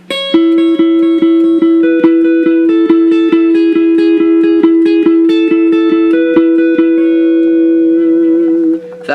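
Guitar picking the third part of a song, a close, even stream of plucked notes over a ringing low drone, played alone for several seconds.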